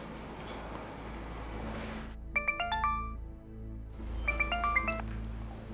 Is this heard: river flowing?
no